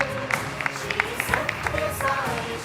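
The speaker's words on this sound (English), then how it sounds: "Can everyone give them a round of applause as well?" A crowd claps steadily with scattered sharper claps standing out, a brief burst of audience applause lasting a few seconds.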